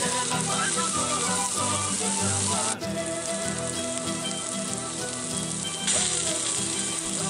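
Sweet corn sautéing and charring in a pan for Mexican street-style esquites, a continuous close hiss and crackle like light rain, with a brief stir midway and no talk.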